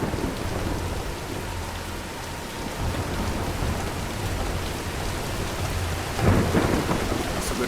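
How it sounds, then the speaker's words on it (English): A thunderstorm in the video game Tomb Raider, with steady heavy rain hissing on surfaces and low rolling thunder, a louder rumble swelling near the end, without talk. "let's wait out the storm"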